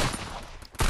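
Gunfire in the mobile shooter game Free Fire, a loud continuous burst that dips briefly before a heavy shot hits near the end, with no talking.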